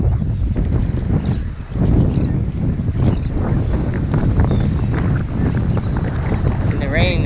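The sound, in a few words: strong wind at the beach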